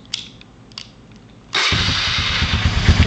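A Honda ATV engine cold-starting: a few faint clicks, then it abruptly catches and settles into a loud, steady, close idle.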